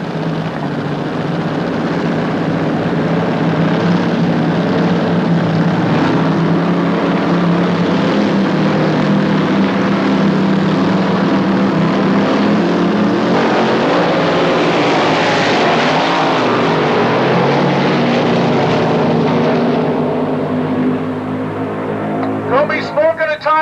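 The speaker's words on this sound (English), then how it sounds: "First round of top eliminator at the AC Daco NDRA Santa Ana Memorial Nostalgia Drag Race at Los Angeles County Raceway, Palmdale, CA." Nostalgia top eliminator dragsters with Hemi engines racing at Los Angeles County Raceway in Palmdale, California, roaring loudly and continuously for over twenty seconds, the engine note rising and shifting as the cars run.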